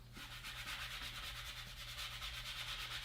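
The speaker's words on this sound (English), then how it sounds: "So we're rubbing, rubbing, rubbing with our fingers." Fingers rubbing firmly across a sheet of microfine glitter paper to burnish it, a steady close, continuous dry scratchy friction sound with soft rhythmic strokes and no talking.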